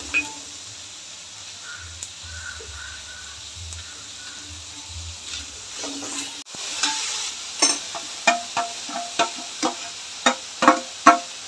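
Sliced onions for a pulao fry in a pan with a low, quiet sizzle, then a series of sharp, rhythmic scraping and tapping strokes from stirring grows louder toward the end.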